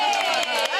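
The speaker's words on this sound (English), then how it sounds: "Give yourselves a round of applause." A studio audience at a Popstars: The Rivals taping cheers and claps in a dense, loud burst, with whoops rising over the noise.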